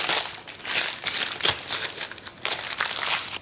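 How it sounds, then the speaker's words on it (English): Baking paper is scrunched up by hand, giving close, crisp bursts of crinkling that come in uneven rustling waves, with no talk. "So I get a piece of baking paper and scrunch it up."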